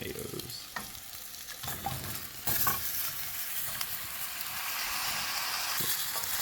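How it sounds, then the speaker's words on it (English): Tomatoes fry in a pan for shahi paneer while a spoon stirs them, giving a steady sizzle broken by scraping strokes against the pan; close, moderately loud, and no talking. "now just want to mix these up for a little while"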